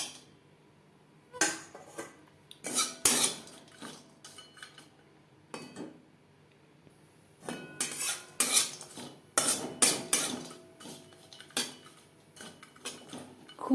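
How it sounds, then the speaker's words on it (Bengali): Cashews, raisins and almonds are stirred while frying in ghee in a wok. A metal spoon scrapes and clinks against the pan in scattered bursts, with quiet gaps between them. "সেই কড়াইতে এক চামচ মতো ঘি অ্যাড করে ড্রাই ফ্রুটস ভেজে নেব এখানে আমি নিয়েছি কাজু কিশমিশ"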